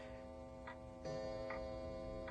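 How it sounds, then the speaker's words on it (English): A clock ticking faintly at a slow, even pace over a low steady hum in a quiet room. "clock."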